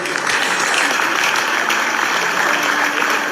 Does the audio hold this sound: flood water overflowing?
no